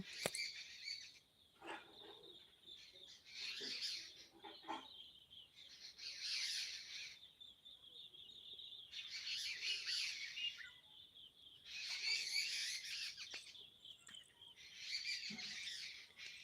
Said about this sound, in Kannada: ಹಕ್ಕಿಗಳ ಚಿಲಿಪಿಲಿ ನಾದ ಕೇಳಿಸ್ತಾ ಉಂಟಾ